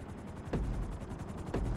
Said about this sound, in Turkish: Lanet olsun şu helikopteri uçuracağım.